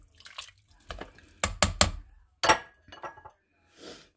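A spoon clinks and scrapes around the pot during a quick stir of Hungarian goulash in a pressure cooker, several short knocks and swishes with quiet gaps between them.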